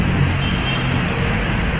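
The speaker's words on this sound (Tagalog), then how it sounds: "Puro sasakyan." Continuous roar of road traffic and passing vehicles near an LRT line, a dense, steady wash of engine and tyre noise with no clear voices.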